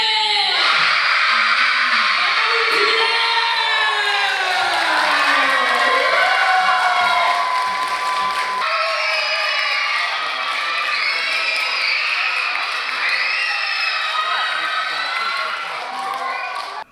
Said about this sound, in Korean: 이때 환호성 때문에 시작을 못했죠.